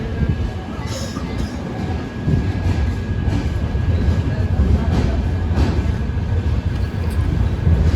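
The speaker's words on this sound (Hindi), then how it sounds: "अपने डेस्टिनेशन स्टेशन बनारस पर ट्रेन का अराइवल हो रहा है" A New Delhi–Banaras superfast train, number 12582, pulls into Banaras station with a continuous low rumble of rolling wheels and carriage noise, heard steadily from on board, with faint clicks and occasional voices.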